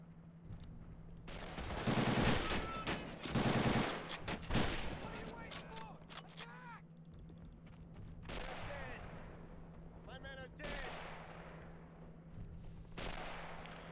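Dense bursts of rapid automatic gunfire in RobZ Realism Mod gameplay, two loud volleys followed by scattered shots over a steady low hum, with voices talking in between.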